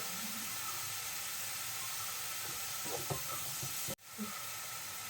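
Onions sautéing in a pan with a little salt for restaurant-style chicken masala: a steady broadband sizzle, close and continuous, with faint stirring clatter and a brief drop near the end.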